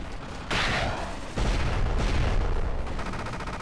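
Rocket fire in the shoot-'em-up game Gigantic Army, a loud continuous barrage of booming blasts and explosions that surges in waves with no voice over it.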